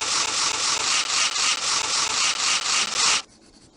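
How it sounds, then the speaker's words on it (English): Sander rubbing over a wooden toy part in Tonka Workshop, a loud rhythmic scraping of about a dozen quick even strokes that stops abruptly into near silence. "Do a good job with the sander so that the paint will look good."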